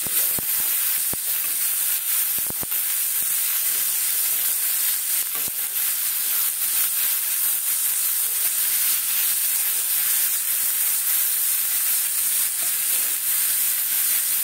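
Onion and tomato with a little salt fry in a hot pan for an aloo matar dal curry, a loud, steady sizzle running unbroken throughout with a few sharp clinks and no talk.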